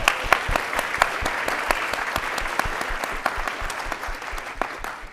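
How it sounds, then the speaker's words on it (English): A conference audience at an interfaith leadership summit plenary applauds a speaker, steady dense clapping from many hands that holds evenly throughout with a few sharper claps near the front. "let's give Zaheer a round of applause."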